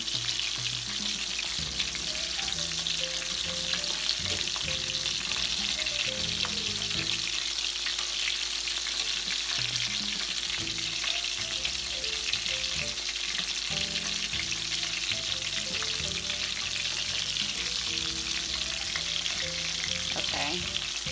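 Shrimp frying in a hot pan give off a steady, loud broadband sizzle that stays even and continuous throughout, with occasional soft clinks and shifts as the pieces are turned.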